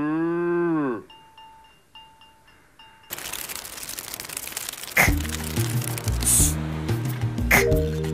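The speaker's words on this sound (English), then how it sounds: "Cow." A cartoon-style cow moo opens the clip, loud and brief, followed by short chime-like tones and then a busy stretch of playful music and sound effects from a children's game.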